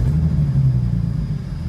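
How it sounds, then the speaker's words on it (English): Engine of a rebuilt 2023 BMW M3 rumbling low and uneven as it fires up and misfires, a deep loud idle close by with no talk over it. "Oh, we're misfiring."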